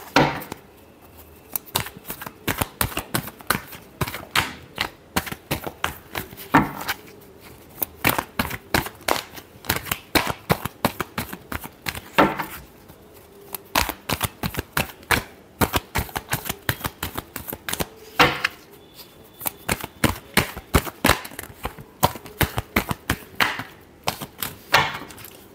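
Tarot cards being shuffled by hand, a long run of crisp riffling snaps and soft slaps repeating in quick irregular bursts, close and fairly loud.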